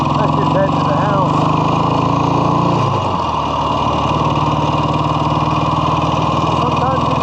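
A 1967 Kawasaki W1 650 motorcycle engine runs loud and close with a steady mid-pitched rumble, then drops and shifts pitch after a few seconds before settling back into a continuous idle-like drone.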